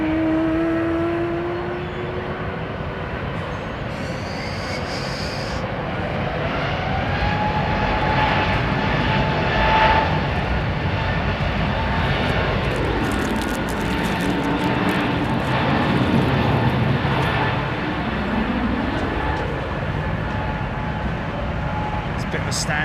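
An American jet aircraft taxis into position at London Heathrow Airport, its engines producing a steady, loud whine and roar that slowly shifts in pitch, with distant airport rumble and a voice talking over parts of it.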